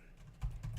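Computer keyboard keys tapped while typing a Linux terminal install command, a brief burst of close, quiet clicks with soft thumps and no voices.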